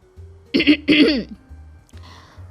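A woman clears her throat in a short, close double rasp, followed by a faint breathy rustle in an otherwise quiet room.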